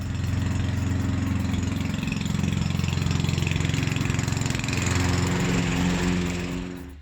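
A self-propelled Prast petrol lawn mower rated 4.4 kW drones steadily up close, its engine holding an even, throaty hum that dips slightly and tails off at the very end.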